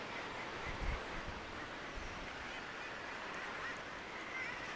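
A seabird colony of guillemots with chicks, a dense, continuous wash of distant calls and murmuring at steady, moderate level, with a couple of brief low thumps early on.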